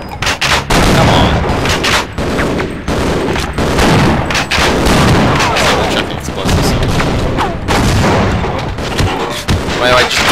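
Rapid gunfire and heavy explosions in Half-Life's Surface Tension chapter, loud sustained bursts of shots and booming blasts packed close together, with someone talking over the chaos.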